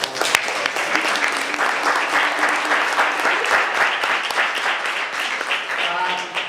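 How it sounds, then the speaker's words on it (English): Sustained applause from a crowd, steady and dense clapping filling the whole stretch, with some faint voices mixed in. "I'd like to give a round of applause."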